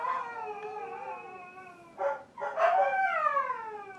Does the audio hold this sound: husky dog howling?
yes